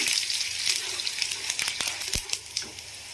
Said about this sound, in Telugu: ఇందులోకి మనం తీసుకున్న ధనియాలు, జీలకర్రను కూడా వేసుకొని వేడి చేసుకున్నాము.